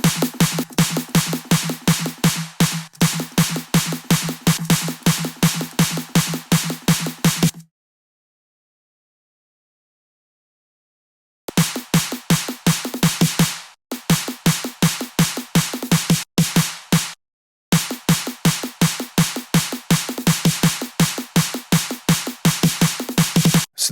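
An electronic drum pattern loops with crisp, short snare hits on the offbeat, stopping for a few seconds of silence before resuming.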